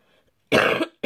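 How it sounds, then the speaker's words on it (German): A woman coughs once, a short, loud, close burst, and a second cough begins at the end, with faint murmuring before. "Entschuldigung, immer noch Huste."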